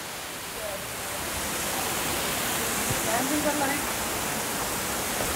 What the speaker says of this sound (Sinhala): ඔන්න අපි දැන් ඉන්නේ දියල් යට